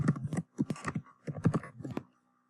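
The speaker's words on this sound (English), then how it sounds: "if you want me to type it in again" Computer keys typed in short irregular clusters of close, crisp clicks, pausing briefly between bursts before falling silent.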